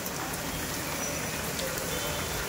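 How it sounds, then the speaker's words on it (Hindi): Heavy rain falls steadily on a monsoon morning, a dense, continuous hiss of drops that stays loud and even from start to finish with no voices over it. "क्योंकि ज़ोरदार बारिश हो रही है।"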